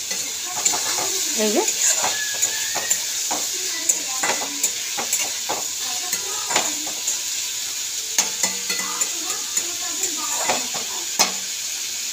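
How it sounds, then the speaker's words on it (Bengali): Onions fry in hot oil in a wok, a continuous sizzle broken by frequent metal scrapes and clacks of a spatula stirring, with a few short spoken words over it. "তো পেঁয়াজটা একটু ভাজা ভাজা হোক"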